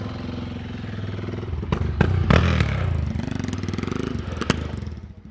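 A Yamaha motorcycle with an Arrows exhaust idles and revs at a motorhome campsite, a steady rumbling engine with sharp clattering bangs and thumps breaking through.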